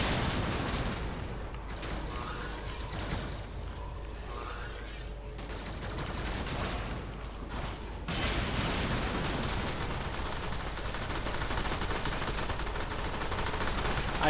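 Continuous gunfire in a Warframe defense mission, dense rapid bursts of shots layered with game effects, loud and steady throughout with a heavier stretch in the second half.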